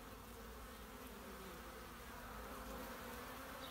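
Bees buzzing outdoors in late November, a steady, continuous hum of many insects at low volume with no talk over it.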